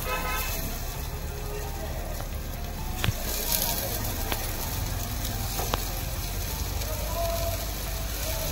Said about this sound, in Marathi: कटलेट तयार आहेत, आपण त्याला शॅलो फ्राय करूया